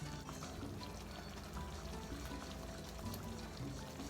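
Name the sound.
draining the juice from olives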